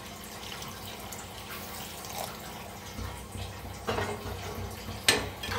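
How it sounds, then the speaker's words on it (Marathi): Water poured from a vessel into a pan of masoor lentil and onion curry, a soft splashing trickle that builds into a few louder pours toward the end, close and alone. "आता ह्याच्यात ओतायचं थोडंसं पाणी"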